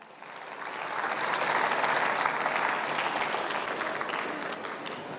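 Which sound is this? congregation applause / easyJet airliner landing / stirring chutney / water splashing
congregation applause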